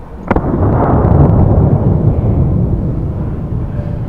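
A 4 gauge shotgun firing a candy M&M shell: a single loud, deep blast with a sharp crack at the onset, then a long rumbling boom that slowly fades, with no talk.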